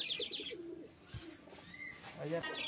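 A pure white Madrasi pigeon gives soft, low cooing phrases at close range, quiet and intermittent, while someone talks nearby.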